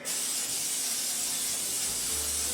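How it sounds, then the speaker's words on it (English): A steady aerosol hiss of cooking spray onto a baking sheet, close and continuous for a couple of seconds, with no talking. "And some cooking spray."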